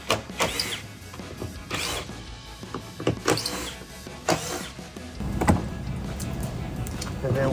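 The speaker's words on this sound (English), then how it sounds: "I'm going to use a power tool, but you can do it by hand if you have a T30 screwdriver" Power tool driving out T30 screws on a RAM 1500 tailgate, several short whirring bursts with rising and falling pitch separated by pauses, close, with someone talking between them.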